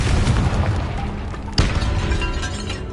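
A Confringo fire spell bursts in Hogwarts Legacy inside a tomb, landing as a loud booming explosion with a sharp impact midway and a rumbling tail that fills the short moment.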